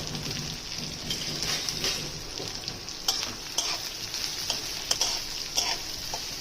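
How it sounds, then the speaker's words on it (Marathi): Two chopped medium onions sautéing in a pan with a little coriander for an egg curry, a steady close sizzle broken by scraping stirring strokes, with no talking. "कांदे चांगले परतून द्यायचे आहेत"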